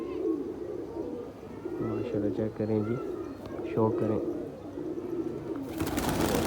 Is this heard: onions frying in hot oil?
no